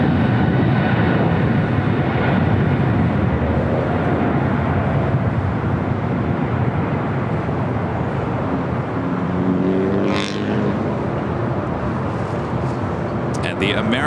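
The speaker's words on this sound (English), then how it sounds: "The American 777-300ER coming in from Miami, about to touch down at 25 left." An American Airlines Boeing 777-300ER arriving from Miami at Los Angeles International Airport, landing on runway 25 left: a steady, loud broadband jet roar throughout, with a rising whine near the end and faint radio chatter underneath.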